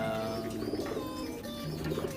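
A racing pigeon coos in soft, repeated low throaty calls, close by, against a busy background of other birds and faint ambient noise.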